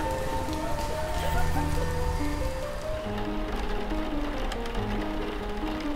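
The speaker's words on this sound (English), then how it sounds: "My little sister plays in the rain." Rain falls steadily on surfaces with a dense hiss and patter, layered under soft music tones and occasional faint voices.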